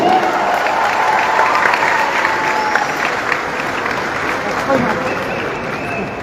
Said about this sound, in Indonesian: Tepuk tangan untuk semua yang hadir di sini.